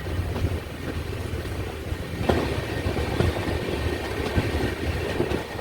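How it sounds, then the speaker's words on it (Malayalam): Island Express train pulling away from Chirayinkeezhu station in Kerala, heard from onboard as a steady, continuous rumble of wheels and carriage noise with faint clatter, and no talking. "അവിടെ വന്ന് കുറച്ച് നേരം നിർത്തിയിട്ട് ട്രെയിൻ അങ്ങനെ എടുത്തിരിക്കുകയാണ് ഇപ്പം."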